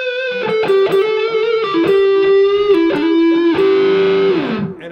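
Distorted electric guitar played through amp gain with reverb and delay, the neck pickup, a run of bright sustained lead notes and bends ringing out loudly, ending in a held note that fades away.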